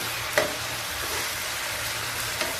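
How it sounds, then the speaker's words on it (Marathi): Tomato puree frying with onion in a pan, a steady soft sizzle with a couple of light stirring clinks, close and even. "टोमॅटोची प्युरी पण चांगली फ्राय करून घेऊ।"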